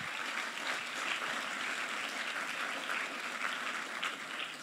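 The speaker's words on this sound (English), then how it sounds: "big round of applause to all of those people as well" An audience applauds at an awards show opening ceremony, a steady, dense wash of clapping that holds at an even level throughout, somewhat distant and without voices.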